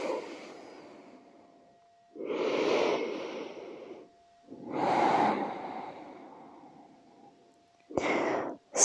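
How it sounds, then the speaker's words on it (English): Slow, deep breathing during a hip-opening yin yoga stretch: three long, airy inhale-exhale swells spaced a few seconds apart, then a shorter, sharper breath at the end, close and fairly quiet, with no talking. "And deepen the breath."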